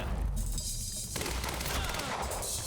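Dense gunfire during a firefight in the game Quantum Break, a steady rapid barrage of shots and impacts crackling continuously at close range, with a brief dip before the volley resumes.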